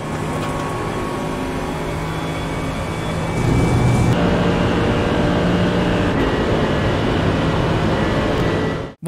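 Mercedes-AMG GT3 race car with a naturally aspirated 6.3-litre V8 in the iRacing simulator, a continuous loud engine drone that steps up in pitch and intensity partway through, then holds steady before cutting out.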